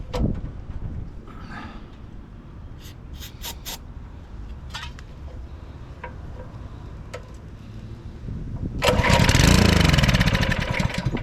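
A Simpson 3600 psi Powershot pressure washer with bad fuel: scattered clicks and faint engine noise, then a loud engine burst that briefly sputters into running near the end.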